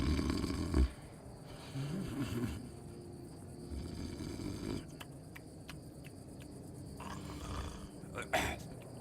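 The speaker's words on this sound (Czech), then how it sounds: "Ty chrápe." A character in the video game Skyrim snores with slow, rough, low breaths near a castle, moderately close, while faint game ambience and some light sounds continue around it.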